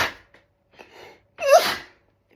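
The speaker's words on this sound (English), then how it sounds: "I want to sneeze." A single close sneeze with a short intake of breath before it, loud and abrupt, then silence.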